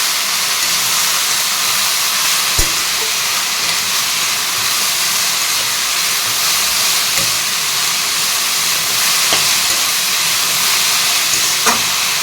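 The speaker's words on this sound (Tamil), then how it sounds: "கீரையை போட்டாச்சு நம்ம இப்போ வந்து இதை பிரட்டிக்கலாம்" Keerai greens, Odisha-style poriyal, sizzle and hiss steadily in a hot pan throughout, a loud continuous frying wash with a few faint clicks and no talking.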